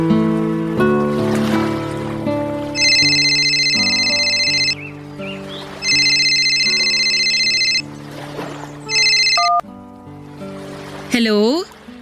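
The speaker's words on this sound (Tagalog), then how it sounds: "tinawagan niya ako sa cellphone ko, Papa Dudut." A cellphone ringtone sounds in loud repeated bursts, three long rings separated by short gaps, layered over steady background music.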